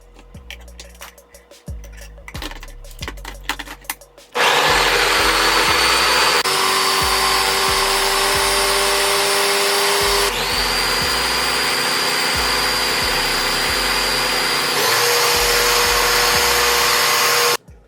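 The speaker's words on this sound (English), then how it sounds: "I'm about to blend up and make the cashew cream. So I'm blending up the cashews with a nib." A blender whirs loudly and steadily as it purées cashews into a smooth cashew cream. Faint clatter comes first, and the motor's pitch shifts a few times before it cuts off at the end.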